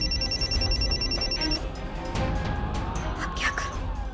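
A telephone rings in a repeating electronic trill for over a second, then stops, followed by rustling and faint background sounds.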